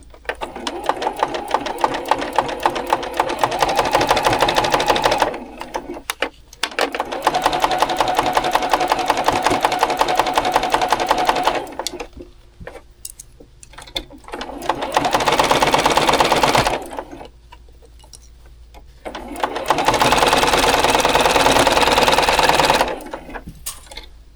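A sewing machine runs in four long bursts, stitching a quarter-inch seam through nested quilt block seams, with brief quiet gaps between runs; close and steady.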